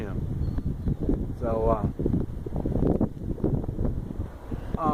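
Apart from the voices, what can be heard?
wind blowing outdoors in Guatemala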